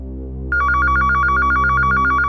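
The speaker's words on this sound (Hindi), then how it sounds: "थैंक गॉड, सही समय पे फोन आ गया" A telephone starts ringing after a moment of low background hum, with a rapid trilling ring that keeps repeating loudly and steadily to the end.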